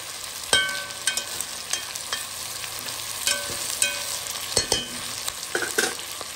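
Onions frying in a pan for a masala lamb chop dish, a steady low sizzle broken by sharp, irregular scrapes and clacks of stirring, close and alone with no voices.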